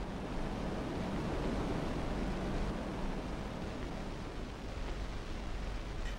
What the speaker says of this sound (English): We hear the sound of waves or wind, even though we're nowhere near water and there is no breeze